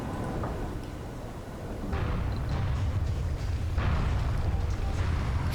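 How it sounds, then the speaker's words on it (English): Fuel depot blowing up after a meteor strike in the Surviving Mars video game, a muffled low boom that swells into a sustained rumbling roar with a second surge near the end. "Fuel explosion. Resources lost."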